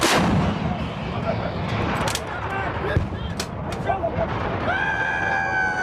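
U.S. Marines' M777 towed 155mm howitzers firing live rounds during a field exercise, with a heavy booming report and rolling echo, then sharp mechanical clanks and voices calling out commands close by.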